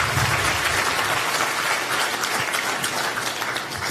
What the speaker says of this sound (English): Let's give another very big hand clap to Richard Byarugaba.